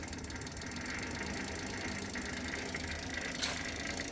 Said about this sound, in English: Change gears sound okay.